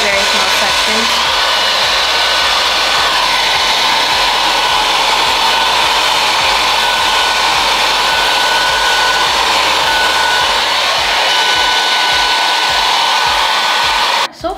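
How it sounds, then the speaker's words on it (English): A dual-voltage travel hair dryer roars continuously and loudly up close, a steady airy whoosh that cuts off abruptly at the very end. "blow dryer isn't as strong."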